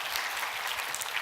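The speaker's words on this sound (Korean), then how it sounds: "박수 부탁합니다" Brief, faint applause from a Korean lecture audience, a soft continuous wash of clapping heard from a distance.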